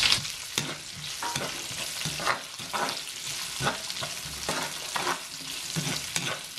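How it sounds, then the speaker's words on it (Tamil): Chopped onions sauté in a pan for fried rice, a steady broad sizzle with repeated scraping stirs of a spatula at irregular intervals, close and moderately loud, with no voices. "இந்த வெங்காயம் போட்டு 1 நிமிஷம் இதை வதங்க விட்டுருக்கேன்"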